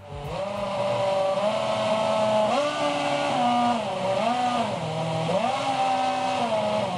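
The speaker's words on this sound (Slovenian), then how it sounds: "To je francoska himna zaigrana na Renaultov motor iz Formule 1." A Renault Formula 1 engine plays the French national anthem, its revs stepping up and down in held pitches that trace the melody, loud and clear with no voices.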